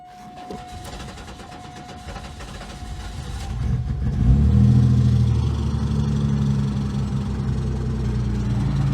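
An Oldsmobile Cutlass Ciera wagon that has not been started for about a week cranks over, catches around four seconds in, then settles into a steady, fairly loud running idle with a low rumble.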